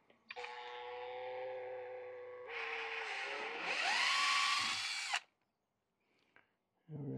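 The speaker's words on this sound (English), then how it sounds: "Go ahead and drill it." A power drill whines at close range for several seconds, drilling a hole to install an articulating bracket, rising in pitch as it bites in, then stops before a brief restart.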